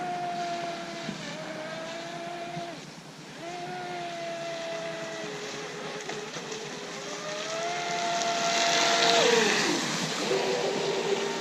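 Twin brushless motors of a 36-inch Miss Geico Zelos RC boat whine steadily at close range, pitch stepping up and down with throttle changes and swelling louder toward the end, with one side running unevenly.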